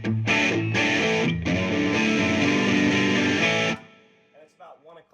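An electric guitar plays heavy distorted chords through a Boss GT-1000 for several seconds, then stops abruptly. A voice follows briefly afterward.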